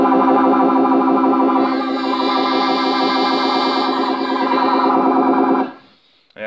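A harmonica chord played through a phaser pedal, held loud and steady with a slow sweeping whoosh, then cut off abruptly near the end, leaving quiet.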